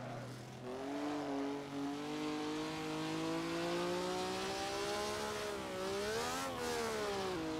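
A Maserati 250F V12 race car at historic Silverstone in a racing simulator game drones steadily as its engine pitch climbs smoothly, dips briefly and rises again, continuous and fairly quiet with no talking.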